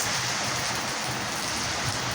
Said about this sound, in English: Look at the raindrops.